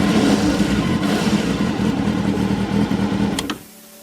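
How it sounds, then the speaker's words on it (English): A 2002 Honda Hornet 600 (CB600F) motorcycle engine on its factory exhaust idles and rumbles loudly with a deep, bassy exhaust note, then cuts off abruptly near the end. "Here is the factory exhaust. It sounds adequate, a bit more bass heavy"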